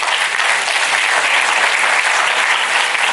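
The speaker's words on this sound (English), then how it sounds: "Round of applause for Satish." Lecture audience gives a round of applause, a loud, dense and uniform roar of many people clapping, steady from start to finish with no speech over it.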